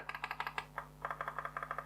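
Button clicks of a Marvo M708W vertical wireless mouse, a quick run of light, dull clicks in a fast, slightly uneven rhythm with a brief pause midway, close and quiet over a faint steady hum.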